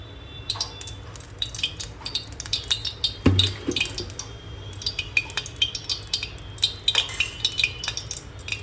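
A metal spoon scrapes and clinks repeatedly against a hot pan while barnyard millet (bhagar) roasts in a little oil, producing an irregular, close rhythm of light taps and scraping strokes with a louder knock near the middle.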